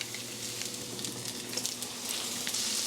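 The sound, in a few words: butter sizzling in a hot pan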